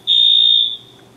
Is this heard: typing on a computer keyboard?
no